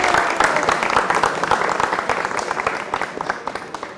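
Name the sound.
audience applause welcoming the best performer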